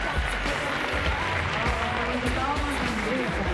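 An audience applauds for a model at a Japanese-Brazilian model contest, a steady bed of clapping and crowd noise running under a host's voice throughout.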